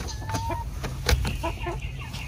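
A rooster clucks and calls in short bursts, fairly close, with faint farmyard bird noises around it, including turkeys and hens.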